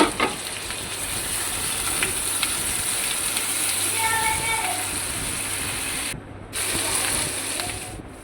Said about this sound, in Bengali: এটাও নেড়ে চেড়ে হালকা হালকা সতে হয়ে আসবে। টমেটো কুচিটাও দিয়ে দিলাম।